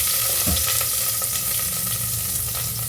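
Chopped garlic sizzles and crackles steadily in a hot pan while tomato rice is made, with a few soft scrapes of stirring, close and fairly loud.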